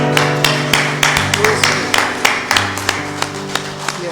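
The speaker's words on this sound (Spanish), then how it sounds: "Un aplauso al Señor" Congregation applauding for the Lord during a church service, a steady run of rhythmic claps over a sustained organ or keyboard chord, the clapping fairly close and moderately loud throughout.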